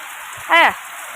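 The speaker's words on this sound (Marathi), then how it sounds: "बघ कसा पाऊस आहे" Heavy rain pours during a windy thunderstorm, water flooding into a house, making a steady, dense hiss throughout, with a short voice rising briefly above it midway.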